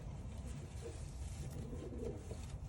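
Racing pigeons coo softly in a loft, low murmuring calls blending into a faint steady background with no clear talk.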